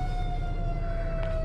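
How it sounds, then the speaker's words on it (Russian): A fire engine siren wails steadily in the distance, drifting slightly in pitch over a constant background rumble. "Смотрите, fire department. Пожарка поехала."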